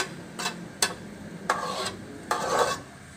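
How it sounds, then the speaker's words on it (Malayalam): A spoon stirs jackfruit-fiber thoran with ground coconut paste in a pan, making four separate scraping strokes with soft sizzling between them, close and clear with no talk. "ഇനി നമുക്ക് ആ അരപ്പും ചകിണിയും എല്ലാം കൂടി നന്നായിട്ടൊന്ന് ഇളക്കി യോജിപ്പിച്ച്"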